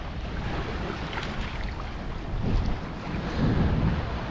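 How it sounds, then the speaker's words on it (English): A sailboat runs on a broad reach in a light breeze, a steady close rush of wind across the microphone and water washing along the hull, swelling slightly in two gusts, with no talk. "Got a little bit of breeze. We're on a nice broad reach"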